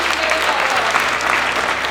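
A church congregation claps steadily together in a dense, continuous burst of applause that fills the room, loud and close for a short stretch.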